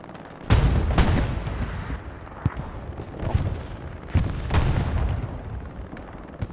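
Bombing run explosions in Hell Let Loose during a night match on Foy, a series of heavy booming blasts and cracks spread over several seconds, loud and rumbling with some sharper pops between them.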